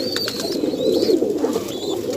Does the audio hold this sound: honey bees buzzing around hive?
no